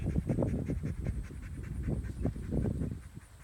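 A dog panting and huffing in quick repeated bursts, fairly close, with rough rhythmic breaths and faint whining over a steady background.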